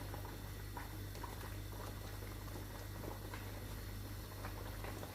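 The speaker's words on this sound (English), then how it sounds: "You can see my meat, stockfish, everything is boiling." Okra soup stock with meat and stockfish boils steadily in a pot, giving a continuous close bubbling and hissing simmer that stays even throughout with no talking.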